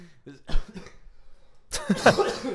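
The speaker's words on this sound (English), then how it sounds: "Every time I laugh, I cough." A few short coughs break out amid laughter and chatter, with a louder burst of mixed laughing and coughing toward the end.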